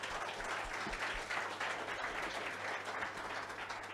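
A live audience gives a guest CEO a warm round of applause at an entrepreneurship chat event, the many-handed clapping steady and fairly loud for the full few seconds, with a faint low hum underneath.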